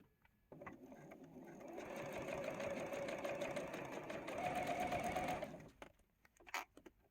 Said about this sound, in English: So let's go to the machine, and we're going to sew 1/4 inch all the way down